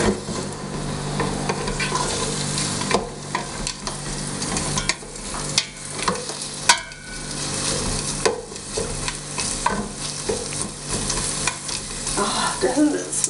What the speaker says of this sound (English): We'll cook that 1 or 2 minutes until the onions start becoming transparent